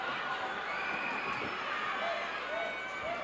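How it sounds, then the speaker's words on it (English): A wrestling arena crowd roaring and screaming during an NWA American Heavyweight title match, a dense steady wall of cheering with a commentator talking over it. "this crowd is screaming"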